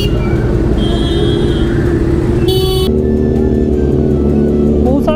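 A Kawasaki Z900 motorcycle's exhaust gives a loud, deep, bass-heavy drone close by, steady throughout with a brief rise partway, amid roadside noise.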